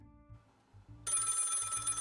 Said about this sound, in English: my phone bolted me awake